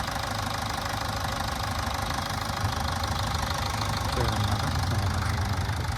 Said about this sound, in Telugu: ఇంజిన్ సౌండ్ కూడా ఎలా ఉంది అనేసి.